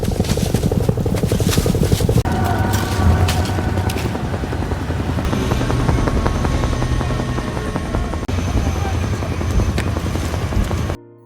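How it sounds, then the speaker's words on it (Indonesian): An American helicopter passes overhead, its loud, steady rotor thump and engine roar continuing close and unbroken for about eleven seconds. "helikopter Amerika melintas di atas area tersebut"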